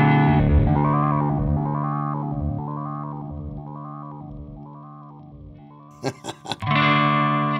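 Held electric guitar chord through a Flamma FX20 ring modulation effect, producing a warbling robotic tone with a pulsing, swooping rhythm, followed by a few choppy strums and a bright new chord.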